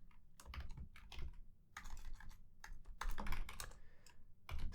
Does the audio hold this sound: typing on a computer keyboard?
yes